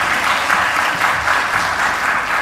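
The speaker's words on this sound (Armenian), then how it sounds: "Ծափերը Հայաստանի խորհրդարանում հնչել են" Members of the Armenian parliament applaud after a vote, a dense, even wash of many hands clapping in a large chamber that continues steadily without talk.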